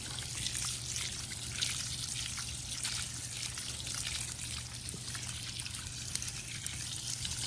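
Water poured steadily over biochar to soak it outdoors, a continuous close trickling and splashing stream that runs without a break throughout.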